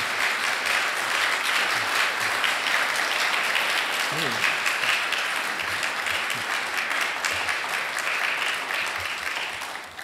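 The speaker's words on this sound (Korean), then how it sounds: "박수로 좀 격려해 주시기 바랍니다" A church congregation applauds steadily to encourage a deacon honored for eight accident-free years of driving; dense, sustained clapping fills the whole stretch, with a few voices faintly underneath before it tapers slightly at the end.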